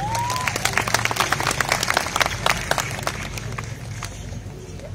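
Audience clapping for a performer at a Jaya Madiun silat show, with scattered sharp claps over a steady crowd murmur and a low hum, moderately loud and continuous through the stretch.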